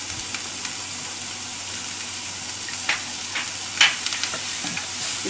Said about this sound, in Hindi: इनको भी अच्छे से भून लेंगे। और इसमें ये थोड़ा सा हल्दी,